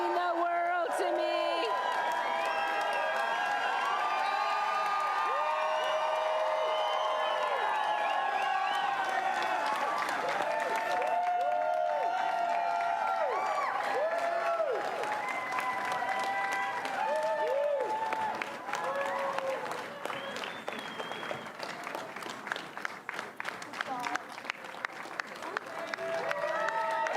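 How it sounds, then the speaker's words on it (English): A large crowd at an Ontario 2018 election night speech cheers, whoops and applauds loudly and continuously, with the clapping thinning toward the end. "to my family who are all here cheering us on tonight"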